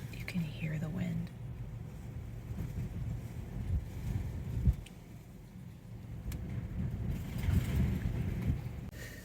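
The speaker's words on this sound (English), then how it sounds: "You can hear the wind." Strong wind on a very windy day gusts and rumbles against the microphone outdoors beside a car, a steady low roar that swells toward the end, with no clear talk.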